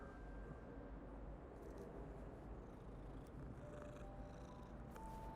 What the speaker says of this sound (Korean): 그르릉 소리까지 잘 표현해준다.